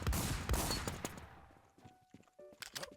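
A loud burst of rapid video game gunfire opens the moment, then trails off into quieter scattered shots and faint clicks.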